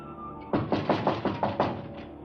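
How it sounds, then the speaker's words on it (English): A fist knocks on a door in a western TV drama: about seven firm, close knocks in a steady, even rhythm after a brief quiet start. "If you'll just be patient, he'll be knocking in a second"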